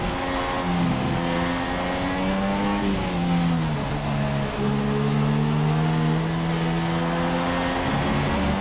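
An F1 race car in the F1 2016 video game howls loudly and continuously, its engine pitch dipping under braking, then climbing again as it accelerates, with no talk over it.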